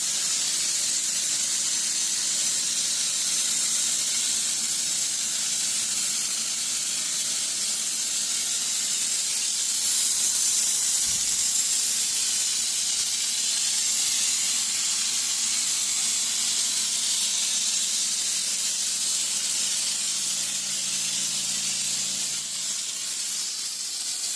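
Loud, continuous hissing spray from a texture sprayer applying orange peel texture to a wall, running steadily without pause, a harsh airy blast close to the microphone.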